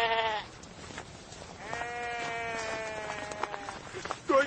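A flock of sheep bleating, one short call followed by a long, loud wavering bleat and a final brief cry, close by over a steady outdoor background.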